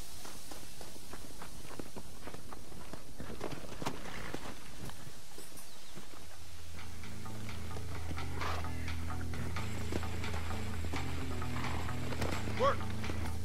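Horse hooves clip-clop in Red Dead Redemption gameplay, a steady rhythmic run of close footfalls that a low rumbling mechanical drone and faint sounds join halfway through.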